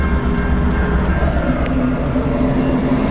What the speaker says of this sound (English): At least there is an actual train coming this time.